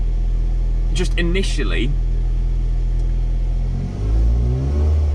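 A car with a full aftermarket Milltek exhaust, non-resonated with a 4-1 manifold and sports cat, idles with a deep rumble and then swells into a rev near the end, while someone talks over it early on.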